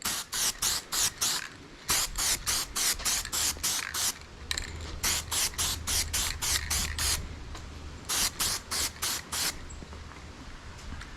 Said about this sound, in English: because we got a nice little spray pattern, let's go ahead and get the top while we're here